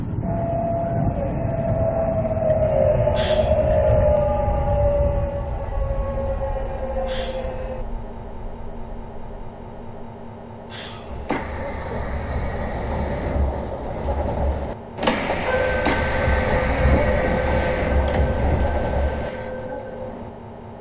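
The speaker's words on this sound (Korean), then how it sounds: "The train for Incheon is approaching." A Seoul Metro Line 1 train bound for Incheon rolls into Seoul Station with a loud, steady rumble and screeching wheels, punctuated by several sharp clanks and hisses as it slows at the platform.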